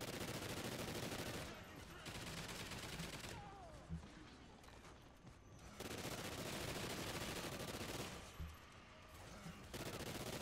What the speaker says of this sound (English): Rapid fire explosive ammo, huh?